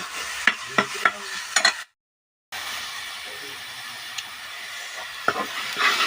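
Onions frying in oil in a pan on a stove, roasted for rajma tadka: a steady soft sizzle with a few sharp spatula scrapes and clicks from stirring, briefly cutting out partway, no talking.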